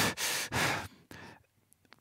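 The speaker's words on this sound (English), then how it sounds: "breathing noises or just mouth clicks" Breaths in a vocal recording come through as two long, close, breathy inhalations, then softer breath and faint mouth clicks trailing off.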